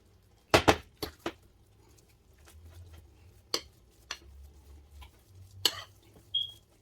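Kaymak cream being stirred in a pot to cool, with sharp spoon-on-metal clinks and scrapes scattered irregularly over a low background hum, fairly close and quiet.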